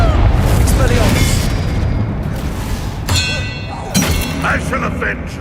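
In the video game Hogwarts Legacy, an Expelliarmus spell strikes with a loud, booming clang and rumbling impact noise, followed by a second burst and bright ringing shimmers, all under a spoken voice.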